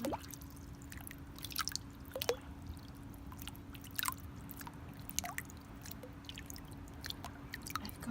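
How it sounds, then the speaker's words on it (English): Fingertips with long nails tap and play in water in a jacuzzi, giving scattered soft drips, splashes and wet taps over a steady low hum. "playing the water and tapping on it, making lots of hopefully relaxing sounds with it."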